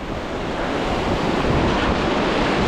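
Steady rushing splash and spray of water around a canoe on a mountain river trip in Sweden, loud and continuous with wind buffeting the microphone.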